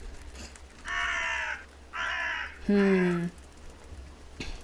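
Crows cawing in the video game The Last Door, three harsh caws spaced about a second apart over a quiet, low ambient hum, fairly close and clear.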